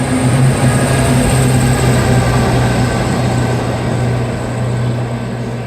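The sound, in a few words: service train passing through station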